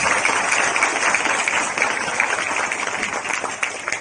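A crowd at a Nahdlatul Ulama gathering at Pondok Pesantren Asy-Syafi'iyah applauds a hadroh group in a steady, dense wash of clapping that fills the whole stretch without pause.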